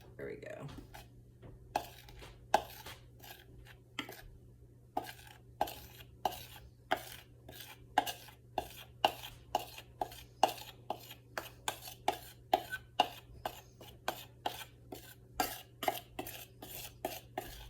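Dusting powder is spooned into a vintage Evyan powder box, producing a long run of light clicks and scrapes at a fairly regular pace, close and quiet, with a low hum running underneath.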